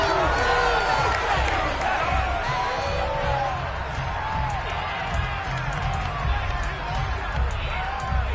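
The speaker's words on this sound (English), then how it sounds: "Plenty of shouts from this crowd as they watch the replay" A football stadium crowd at a Titans versus Colts game shouting and cheering as it watches a replay: a dense, steady roar of many voices with whoops and whistles, loud and continuous throughout.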